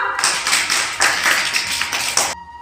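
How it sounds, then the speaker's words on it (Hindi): A burst of rapid hand claps in a children's phonics class, dense and loud for about two seconds before stopping abruptly. "अगली ताली बजाओ"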